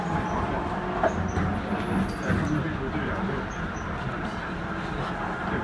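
DLR light rail train departing Pudding Mill Lane station in London, a steady rumbling interior drone with faint wheel squeals and rattles, while people talk quietly over it.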